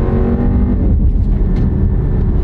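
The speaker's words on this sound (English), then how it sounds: "And the turbo kicks in." A turbocharged car pulls away on a main road under hard throttle, a loud close engine roar rising as the turbo kicks in, steady and strong throughout with no talk.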